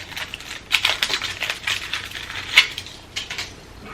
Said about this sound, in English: First, we're going to unwrap this pellet.